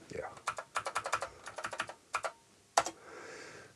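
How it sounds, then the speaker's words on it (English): Typing on a new mechanical keyboard for an Amiga 1200: a quick run of crisp, close clicky keystrokes in uneven bursts, with a brief pause and a final louder key hit, then a soft fading hiss. "Okay, let's just type something here and it works fine."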